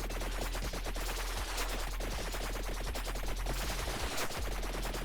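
Weapon gunfire in the Mass Effect video game, a steady stream of rapid shots going on throughout with little pause, fairly loud and close, with no talking.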